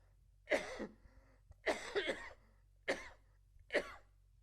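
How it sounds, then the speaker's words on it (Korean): Four sharp coughs from one person, close and fairly loud, spaced about a second apart in a quiet room. "갑자기 기침이 나와서."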